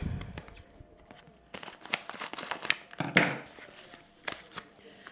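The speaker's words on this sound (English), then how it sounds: "I'll just give it a good rip open" Packaging being ripped open by hand in a home kitchen, a run of crinkling, tearing bursts of plastic or paper, close and fairly quiet, with irregular sharp crackles and pauses between pulls.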